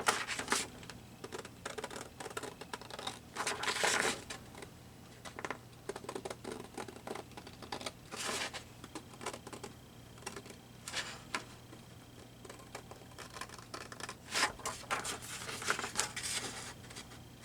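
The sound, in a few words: cutting paper with scissors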